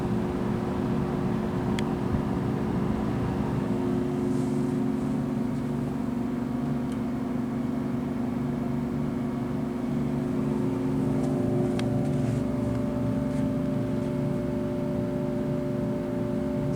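A GE HVAC unit in a hotel room runs its blower with a constant close hum and airy rush, steady throughout, with faint occasional ticks.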